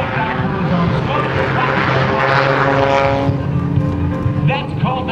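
A propeller aerobatic airplane performs a torque roll at the Blue Angels Homecoming Airshow, its engine holding a loud, steady droning roar that shifts in pitch, with an announcer talking over it.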